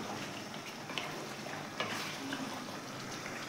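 Milk is stirred into shahi chicken in a pan, giving a quiet, steady simmering sizzle with faint scrapes and taps from the stirring utensil.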